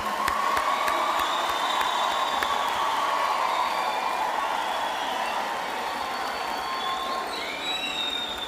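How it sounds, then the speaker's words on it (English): A crowd at a university graduation ceremony applauds the graduates, a broad continuous wash of clapping mixed with scattered cheers and whistles that tapers slightly near the end. "let's have a round of applause, please, for all of our graduates."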